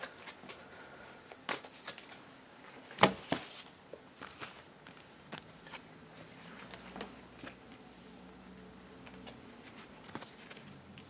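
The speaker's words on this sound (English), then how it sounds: "I'll shuffle a little bit more." A tarot card deck being shuffled by hand at close range, with soft riffling and rustling bursts and a few sharper card snaps, quiet and intermittent over about eleven seconds.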